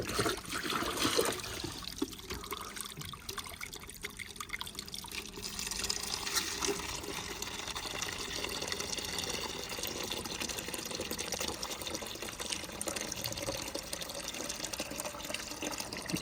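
Water runs from a tap in a steady trickling, splashing stream, filling a vessel, continuous and fairly close throughout with no talk over it.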